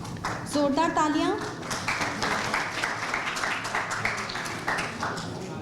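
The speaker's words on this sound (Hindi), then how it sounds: "जोरदार तालियां।" Loud audience applause at a farmers' discussion forum as a guest is welcomed on stage, with a voice speaking over the start and steady clapping continuing throughout.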